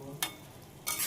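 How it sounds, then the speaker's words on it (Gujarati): Yogurt paste mixed with spices hits hot oil in a pan for paneer bhurji, giving two short, loud bursts of sizzling with quieter crackle between them. "જ્યાં દહીંને બધા મસાલો મિક્સ કર્યો છે એની પેસ્ટ આપણે આની અંદર નાખી દઈશું"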